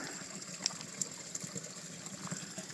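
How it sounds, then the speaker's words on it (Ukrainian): Shypit waterfall near Lake Synevyr in the Carpathians gives a faint, steady, distant rush of water, broken by a few small clicks and splashes, with no voices. "водоспад шипіт відносно недалеко"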